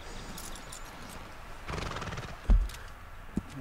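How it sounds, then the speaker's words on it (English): Horse whinny and hoof clops in Red Dead Redemption 2, a brief neigh in the middle followed by two sharp, close hoof thuds over quiet game ambience. "The horse just followed us?"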